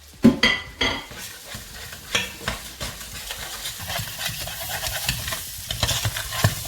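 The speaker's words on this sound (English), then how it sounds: "we're cooking the spices" Spices frying in curry paste in a pan for chicken curry, with loud sizzling and sharp spatula scrapes that start heavy, then settle into steady stirring under a bubbling fry; no voices.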